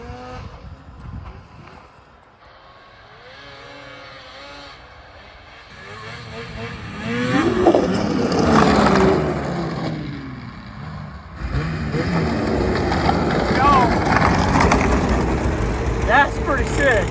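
An Arctic Cat Catalyst 858 snowmobile engine revs up loudly during a wheelie, rising and surging in two long bursts, while people talk over the roar.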